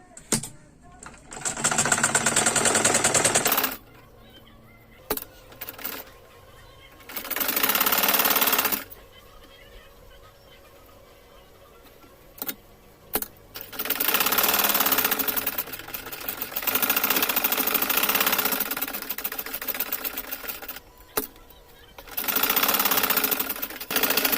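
An electric sewing machine stitches blouse fabric in several bursts of rapid, whirring, close-up chatter separated by quiet pauses.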